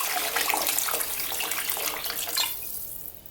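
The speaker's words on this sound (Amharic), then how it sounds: "ውሃችንን ያርገን ዘለል አድርገን እንጨምራለን።" Water streams into a cooking pot of pumpkin soup in a steady pour that lasts a couple of seconds and then tapers off, close and moderately loud, with no voices.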